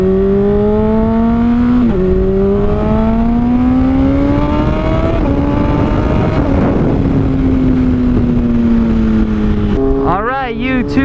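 Honda CBR600RR sport bike fitted with a Toce exhaust on a test ride, engine droning steadily and loud as revs climb and drop through several gear changes, with a sharp rev burst near the end.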